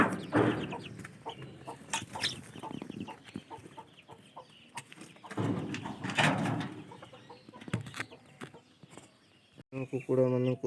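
Chickens being released at a village ritual cluck and squawk in scattered bursts close by, with people talking throughout and a sharp, tonal cry near the end.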